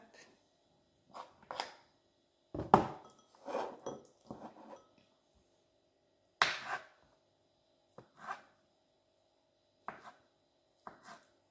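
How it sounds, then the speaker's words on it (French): A knife cuts boiled eggs on a cutting board in a few short bursts of quick taps, with pauses between strokes and a faint background hum. "vous coupez bien vos œufs"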